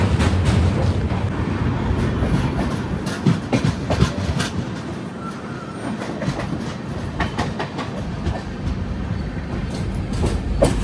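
A long-distance passenger train running on rails, a loud close rumble inside the carriage with repeated rhythmic clickety-clack wheel beats over the joints and a continuous low roar.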